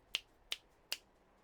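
Three crisp finger snaps land at an even, unhurried pace, each a sharp isolated click with near silence between.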